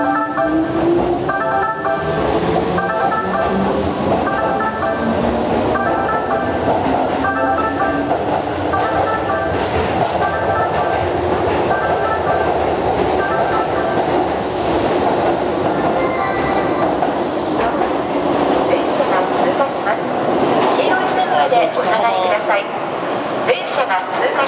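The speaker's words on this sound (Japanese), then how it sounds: "まもなく電車が通過します。" A Keihan 8000 series train rumbles loudly and steadily through Yodoyabashi station, Osaka, close by, with a chime and a Japanese public-address warning to stand behind the yellow line over the noise early on.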